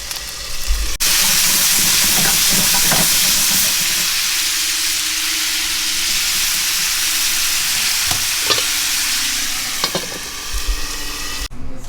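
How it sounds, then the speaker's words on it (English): Steak browning in plenty of butter in a cast iron skillet, a loud steady sizzle and hiss that runs through the whole stretch with a few stirring clanks and scrapes. "I put lots of butter on the cast iron, skillet. I put the steak, and I'm rolling to brown it."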